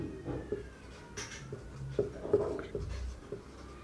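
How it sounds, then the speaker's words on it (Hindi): Chalk or marker writing on a board, short scratchy strokes in irregular bursts close by, with faint room noise and no clear talk. "यहाँ पर लिख देते हैं इसमें"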